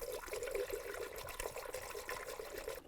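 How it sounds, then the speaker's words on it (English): Coolant is poured into the radiator of a Chevy Trailblazer, a soft, steady trickling and gurgling of liquid, faint and close, with no speech. "Now add your appropriate coolant and level."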